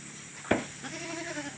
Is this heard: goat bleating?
yes